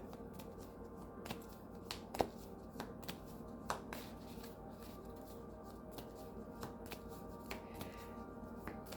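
A deck of tarot cards is shuffled close up, giving a quiet run of crisp riffles and snapping flicks at an irregular rhythm against a soft background, with no talking.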